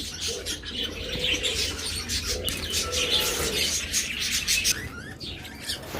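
Pet lovebirds, budgerigars, cockatiels and finches, including high-mutation birds, chirp and tweet constantly in a busy chorus, dense overlapping calls filling the space with occasional wing flutters.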